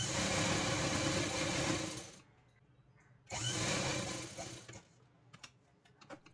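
A sewing machine stitches saree fabric pieces being turned into a dress: two close, steady, whirring runs separated by a short pause, then lighter clicks and brief bursts.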